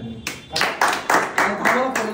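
Several people clap their hands in a lively indoor gathering, roughly seven bursts of clapping in quick, uneven rhythm, close and fairly loud, with voices mixed in.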